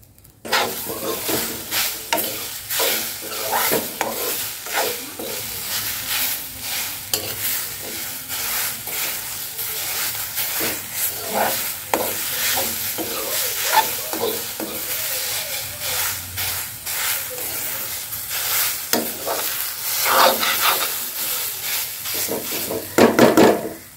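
Papad omelette mixture seasoned with turmeric, chili powder, cumin and a little sugar fries over low gas, giving a steady close sizzle broken by repeated scraping stirs throughout.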